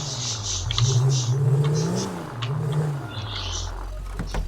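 A car engine in GTA 5 hums and rises and falls in pitch as the vehicle slows and parks, loud and steady, with faint higher chirps of ambient sound above it.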